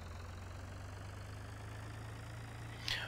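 New tractor engine idling in Farming Simulator 2013, a steady low rumble with an even mechanical pulse, close and unchanging, with a brief hiss near the end.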